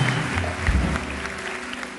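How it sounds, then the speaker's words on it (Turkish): A studio audience on a Turkish television talk show claps in dense, steady applause throughout. "alkışlarla yayın alalım"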